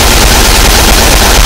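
Rapid, loud gunfire from a 1990s online shooting video game, a dense continuous burst of automatic shots packed close together.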